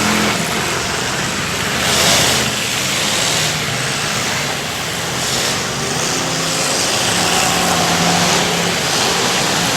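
A race car engine roars loudly past on a dirt track at a motorsports event, a sustained broadband drone that swells and fades with steady track noise throughout.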